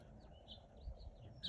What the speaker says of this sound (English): Did you hear that call? That real whistly, high-pitched? It's a brown-headed cowbird.